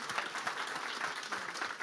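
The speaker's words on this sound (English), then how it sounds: "Let's give each other a round of applause." A steady round of applause from an audience at a tech demo day at Google headquarters, continuous clapping at a moderate distance with no break.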